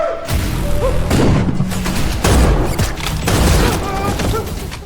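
Gunfire from a shootout in the action film Badland Hunters, loud and sustained, with repeated booming bursts and heavy thuds packed close together over a dense mix of effects and score.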